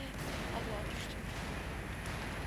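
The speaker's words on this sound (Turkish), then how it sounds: "Bombalar havada uçuşuyor abi." Bombs and artillery fire in the Battlefield 4 video game form a dense, continuous roar of blasts and gunfire. The barrage stays loud and steady throughout, with no distinct individual hits.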